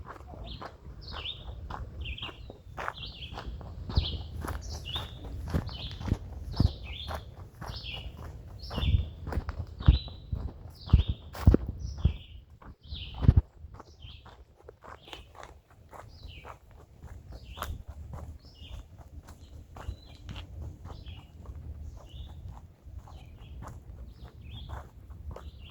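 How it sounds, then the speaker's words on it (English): Small birds chirp and sing repeatedly along a nature path outdoors, bright calls scattered throughout with a few louder close bursts in the middle, over soft footstep-like crunching and low ambient rumble. "You hearing that birds?"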